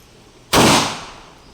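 One loud, close gunshot bursts out during annual proficiency firing at a range, a sudden sharp report that rings and fades over about a second against a quiet background.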